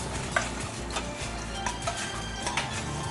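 Pak choy tossed lightly in a hot pan during a chilli tofu and mushroom stir-fry, giving a steady sizzling hiss with soft scraping and a few light clinks at irregular moments, close and even in level.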